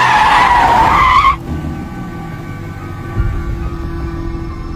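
A car driven at very high speed screeches its tires loudly for about a second, then the engine roars on as a steady, close rumble.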